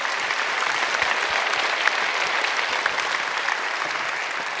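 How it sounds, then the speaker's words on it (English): A convention-hall audience at Star Wars Celebration Orlando 2017 gives a steady round of applause, dense even clapping sustained throughout without a break. "Let's give him a round of applause"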